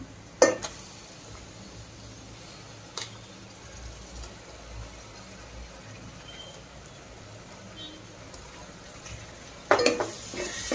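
Wet coconut masala paste frying in oil with onion, tomato and ginger-garlic paste for a Konkani-style chicken curry; a soft continuous sizzle runs throughout, with a few brief clanks of a spoon against the pan.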